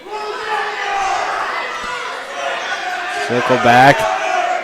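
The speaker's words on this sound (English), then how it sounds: "Crowd's really getting into this one." Crowd noise fills a high school wrestling tri-meet during a close 4-2 bout, a steady roar of cheering and shouting from teammates and spectators that swells near the end, with voices talking over it.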